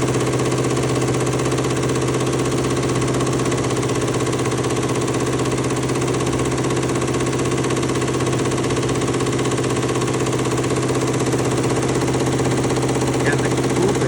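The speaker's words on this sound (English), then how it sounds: "let's watch this embroidery machine in action here" A multi-head embroidery machine stitches several shoe parts at once on a shoe factory floor. It makes a loud, continuous mechanical drone with a steady fast rhythmic chatter and no breaks.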